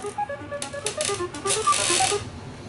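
On the Tic-Tac-Dough game show, the board shuffles with a rapid string of bright electronic clicks and chiming blips, busy and uneven, rising to a dense flurry before it ends.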